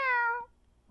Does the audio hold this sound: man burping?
no